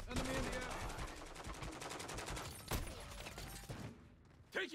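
Rapid automatic gunfire from a Call of Duty–style multiplayer shooter rattles on continuously, with a sharp louder burst near the end and faint game voice callouts mixed underneath.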